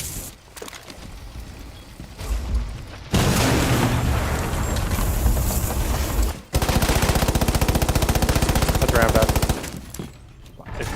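Video game gunfire: bursts of rapid, close, loud shots forming dense machine-gun-like volleys, broken by short gaps and quieter stretches between the firefights.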